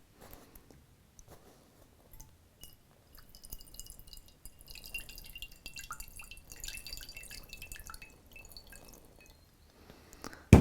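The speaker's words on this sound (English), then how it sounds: "let me do a little more water pouring here." Water poured onto sleeping bag fabric, first as sparse scattered drips, then a faint, denser trickle and spatter building toward the end, close and quiet.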